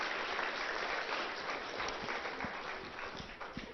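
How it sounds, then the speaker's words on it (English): A church congregation applauds Belinda, a faint, fairly distant spread of clapping that holds steady throughout. "let's give Belinda a round of applause"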